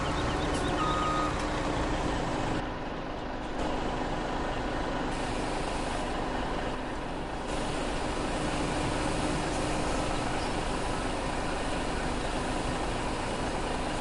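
A vehicle in Farming Simulator beeps while reversing, a repeated warning tone over a constant loud engine and machinery rumble.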